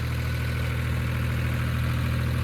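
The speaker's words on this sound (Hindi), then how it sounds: "तीनों ट्रैक्टर एक साथ जा रही हैं" Three 4x4 tractors, a New Holland 3630, an Eicher 557 and a Swaraj 855, drive together on a village route, making a steady, loud, low diesel engine drone with no breaks.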